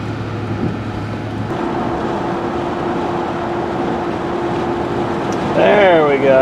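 A diesel vehicle with a poor exhaust-fluid quality fault idles and runs steadily on a short test drive, a constant loud engine hum with a voice speaking over it.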